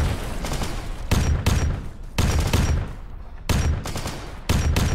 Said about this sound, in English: A plasma gun.